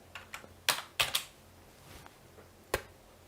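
Code being typed on a computer keyboard, a quick run of close, crisp key clicks in uneven bursts with short pauses, quiet and without talk.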